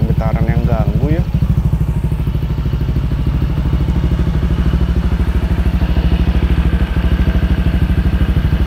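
A Honda Vario 160 scooter with lengthened engine mounting runs steadily during a test ride, its engine a loud, even, throbbing drone close by, with a brief voice at the start.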